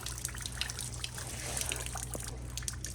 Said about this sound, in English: it's dripping, coming to an end